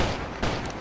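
Gunfire in the video game GUN crackles as a short, noisy burst of shots, with a sharper report in the middle, fairly loud and close.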